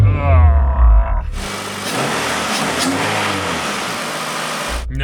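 A turbocharged daily-driver car engine pulls hard under acceleration, a loud sustained roar that follows a short burst of voice and cuts off abruptly at the end.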